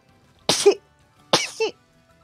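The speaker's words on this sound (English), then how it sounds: "I'm gonna sneeze." Two quick sneezes in a row, close and fairly loud, each a sharp burst trailing into a short voiced tail, with silence between and no other talk.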